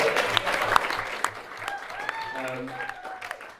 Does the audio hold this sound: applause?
yes